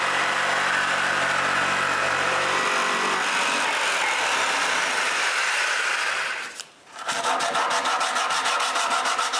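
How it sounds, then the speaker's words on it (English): A power saw cuts through wood between holes drilled at each corner of a dust-hole opening in a bandsaw base, a loud steady rasping whine that thins after a few seconds, dips briefly, then resumes with a rapid buzzing chatter. "Then I cut between the holes."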